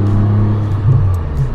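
A Suzuki Carol car pulls away under steady engine drone with a low hum and slight revving, heard from inside the cabin, loud and close.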